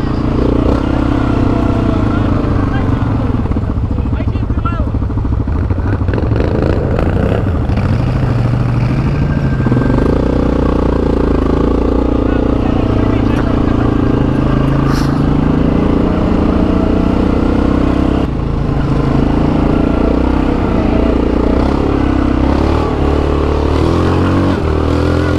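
Six ATV engines rumble and rev together close by on a mountain trail, a steady loud drone with shifting throttle, occasional voices faintly underneath.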